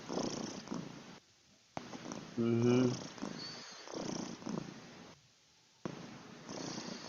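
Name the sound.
part-Bengal cat purring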